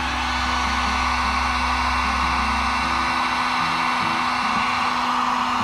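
Heat gun shrinking heat-shrink tubing over soldered speaker wires for a Harley-Davidson Sportster Iron 883, a loud, constant close blowing roar with a low motor hum underneath that drops slightly partway through.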